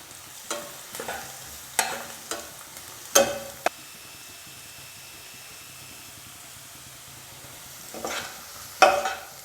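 Onion is sautéed in a pan for ridge gourd chutney, giving a soft steady sizzle broken by several sharp scraping stirs of a spatula, some close and loud, with no talking.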